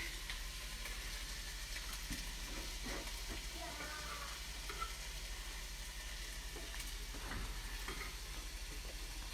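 Taco filling sizzling on a grill, a faint steady hiss and crackle with light scraping stirs, heard up close and quiet.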